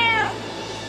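Cats meowing for a Shaco cat skin in League of Legends, with voice actors performing the meows: one clear, loud meow with a falling pitch that fades into a soft tail.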